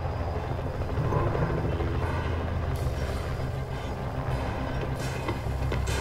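A small drone moving in Rainbow Six Siege gives a continuous low whirring buzz with loud rumbling texture throughout and brief brighter bursts on top, no talking.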